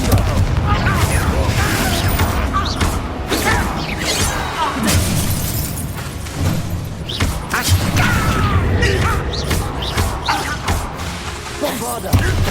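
Fire-blast Confringo spell explosions burst repeatedly in a Hogwarts Legacy battle, loud booms and crashing impacts layered over dense combat noise, with voices shouting throughout.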